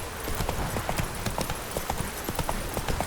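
Roach the horse gallops in The Witcher 3, hooves clip-clopping in a steady rapid rhythm, close and continuous throughout.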